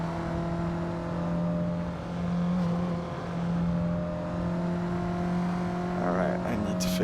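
A Suzuki Liana engine droning steadily as it laps the Top Gear test track in Assetto Corsa, with a constant mid-revving tone that briefly dips and rises, close and loud throughout.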